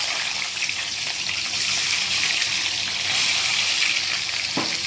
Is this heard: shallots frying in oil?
yes